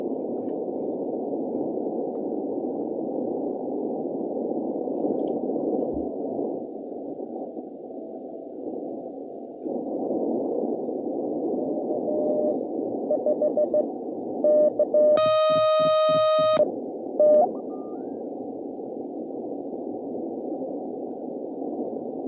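Morse code CW comes in on an amateur radio during a Parks on the Air activation: constant radio hiss, a few faint keyed dashes, then a short, clear burst of strong, steady sidetone keying near the end.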